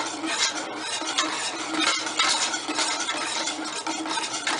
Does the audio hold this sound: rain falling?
no